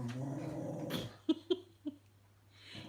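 A dog outside gives a low growl, then three short sharp barks or yelps in quick succession, faint and a little distant, over a quiet background hum.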